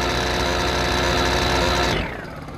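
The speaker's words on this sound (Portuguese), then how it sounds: "Vamos travar o motor dessa moto." Honda Fan 125 motorcycle engine revving loudly and steadily up close, a dense continuous roar that cuts off and drops to a quieter idle near the end.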